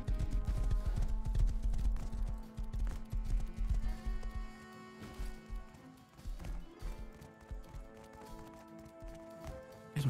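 Horse hooves clip-clop in the survival game Rust, a busy run of hoofbeats over dense game noise and music, loud early then thinning out, with no talk.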